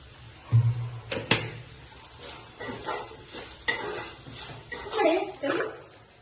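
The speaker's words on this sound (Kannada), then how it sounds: "ನಾನು ಕಡಿಮೆ ಉರಿಲಿಟ್ಟೆಲ್ಲ ಫ್ರೈ ಮಾಡ್ಕೊಳ್ಳಿ, ಇಲ್ಲಾಂದ್ರೆ ಫುಲ್ ಸೀದೋಗ್ಬಿಡುತ್ತೆ" Kara pongal ingredients frying in a pan over a low flame, with soft sizzling, stirring scrapes and a few utensil knocks close by while someone talks.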